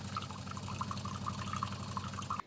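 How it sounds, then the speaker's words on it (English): Hot water poured into a drink, a quiet, steady liquid stream with faint bubbling trickles running for a couple of seconds. "And then I add some hot water."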